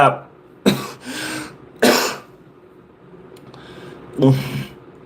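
Several sharp coughs ring out, close and loud, with brief pauses between them and a bit of throat clearing.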